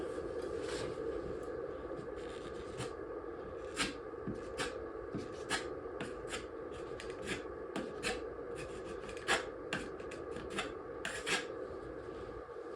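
Filler being scraped off a crack in wooden stage scenery, a soft continuous rasp with repeated short sharp scrape strokes at a steady, uneven rhythm, close and moderately quiet.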